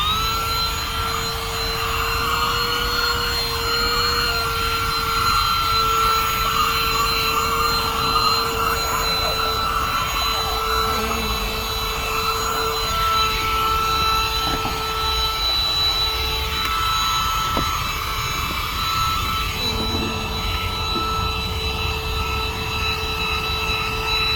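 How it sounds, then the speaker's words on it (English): Small portable car vacuum cleaner running at its single speed with no attachment fitted, a steady loud whine with a constant pitch and broad airy rush that continues unchanged throughout, close and alone. "I'm gonna use only the vacuum."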